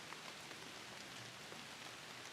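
Rain falling through a forest at night, a dense steady patter of drops hitting leaves and ground all around, even and unbroken with nobody speaking.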